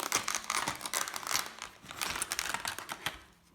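Plastic and cardboard packaging of a Hexbug radio-controlled cat toy mouse crinkles and crackles in quick, irregular bursts, close up and fairly quiet, with no voices.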